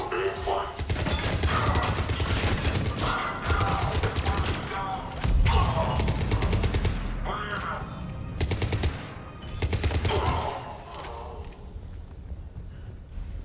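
Turret gunfire in Mass Effect 3's Omega DLC sounds as rapid automatic bursts in repeated volleys, loud and close, with heavy thumps in between and voices talking over the shooting.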